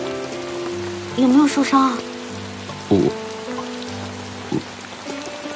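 Steady rain patters on a surface throughout, while a soft musical score plays and a person briefly speaks over it.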